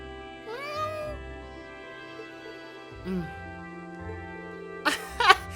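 A cat meows in the video game Trails of Cold Steel, with several clear, rising meows close up. Game dialogue voices speak between the cries, and a louder cat call sounds near the end.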